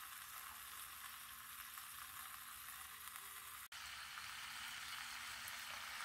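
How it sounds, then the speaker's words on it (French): Rabbit meat and onions fry in olive oil in a tajine, making a faint, steady crackling sizzle throughout, interrupted once by a single brief click. "J'ai fait revenir la viande et les oignons et l'huile d'olive."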